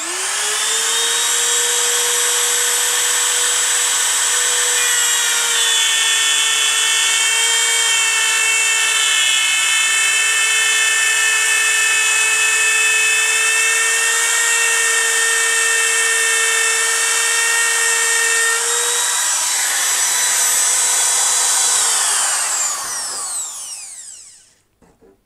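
A Katsu trim router spinning at high speed to route wood, a loud sustained whine with steady harmonics lasting over twenty seconds before spinning down to silence.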